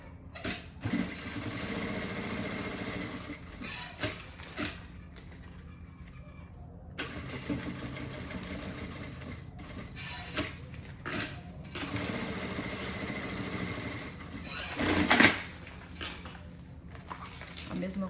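A sewing machine topstitches the side seam of a double toiletry bag in two long, steady mechanical runs, separated by a quieter pause with faint background sound.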